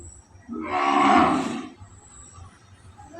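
A cow gives one loud, full moo lasting about a second, close by, with faint background noise and no talk.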